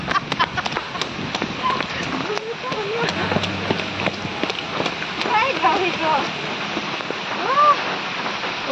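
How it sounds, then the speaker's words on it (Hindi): Steady rain falls throughout at Rajiv Gandhi University in Arunachal Pradesh, a dense wash of patter with scattered drops, while people talk and call out over it. "तो बारिश गिर रहा है"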